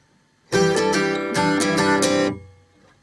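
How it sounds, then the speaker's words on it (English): Acoustic guitar plays a short live-style strummed passage of a song without a slide, several bright ringing strums close up for under two seconds, then the chord decays into silence. "And then a live variation without the slide."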